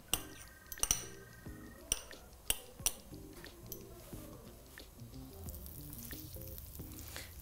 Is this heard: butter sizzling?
yes